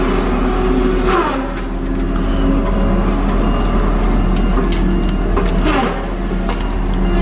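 Heavy Tigercat forestry machine with a 60-inch, 1,400-pound disc spinning at just over 1,200 RPM: a loud, constant low drone and whine that dips briefly twice, close and alone.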